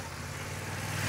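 A motorcycle engine on a category A riding exam practice course runs steadily close by, its throttle eased on and off in a continuous drone with rising intensity toward the end.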